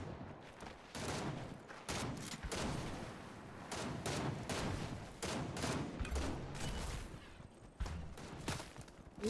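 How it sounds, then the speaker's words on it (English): Many players are firing in a shooter game, and the bursts of gunfire come dense and rapid, one after another, as a sustained fusillade at moderate distance. "There's a lot of people shooting around us."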